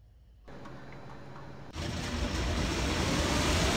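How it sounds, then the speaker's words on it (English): Boeing C-97 Stratofreighter piston engines start up in the FSX flight simulator game, a steady hum that abruptly jumps to a louder, dense roar partway through, with no talking. "Start the engine up."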